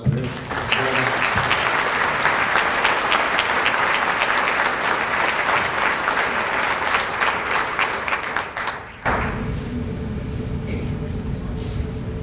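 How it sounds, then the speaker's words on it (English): A crowd at a police awards ceremony claps loudly and steadily for several seconds, then the applause cuts off abruptly into a quieter room hum. "Can we give them a round of applause?"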